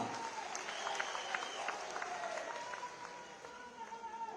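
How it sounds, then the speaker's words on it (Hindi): Rally applause for the chief minister at a Progressive Himachal 75th anniversary celebration in Kotli, Mandi, moderately loud clapping mixed with tonal background sounds and crowd murmur. "एक बार अपने लिए व माननीय मुख्यमंत्री जी के लिए जोरदार तालियां।"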